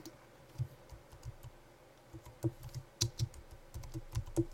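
Typing on a computer keyboard, a close, quiet series of uneven key clicks with short pauses, alone without talk.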